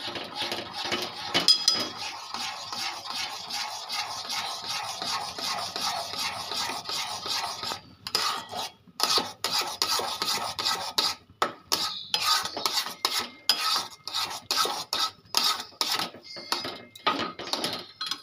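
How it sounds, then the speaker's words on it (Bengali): Semolina being stirred in a pan, a steady dry scraping and rasping of the utensil against the pan, continuous at first and then broken into quick repeated strokes, close and fairly loud with no talking. "সুজিটা দিয়ে আপনাদের এরকমভাবে নাড়তে হবে, যাতে দলা না পাকিয়ে দেয়।"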